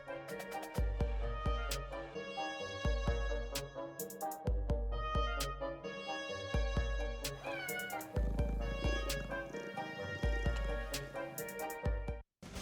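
A cat meows repeatedly in loud, close, drawn-out calls that run almost continuously over a rhythmic musical backing, with no talk.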